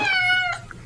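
A cat gives a single clear, drawn-out meow up close, a bright tonal call lasting about half a second that fades quickly into quiet.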